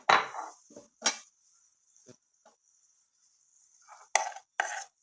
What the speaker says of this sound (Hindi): बस इसको चम्मच चलाते रहना है, चम्मच चलाते रहना है।